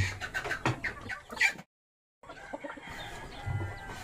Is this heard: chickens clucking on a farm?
yes